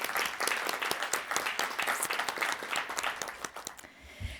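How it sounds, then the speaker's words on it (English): An annual meeting audience gives Rhonda and the team a round of applause, a moderate spread of individual claps that rises, holds, and thins out near the end. "So maybe a round of applause for Rhonda and the team"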